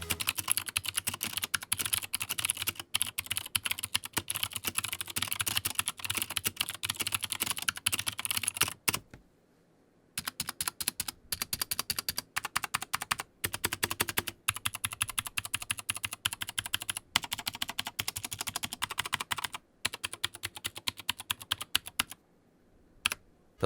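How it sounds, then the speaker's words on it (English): Rapid, steady typing on an Anne Pro 60% mechanical Bluetooth keyboard with Gateron blue switches and double-shot PBT keycaps, close and crisp with clicky keystrokes and a couple of brief pauses. "the Gateron blue switches felt nice to type on"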